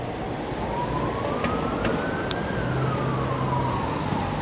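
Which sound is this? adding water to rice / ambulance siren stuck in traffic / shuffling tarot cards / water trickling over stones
ambulance siren stuck in traffic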